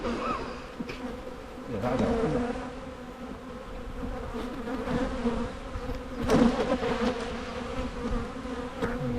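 Honey bees buzz steadily around a nucleus hive, a dense, close drone of many wings rising and falling, with faint voices talking in the background.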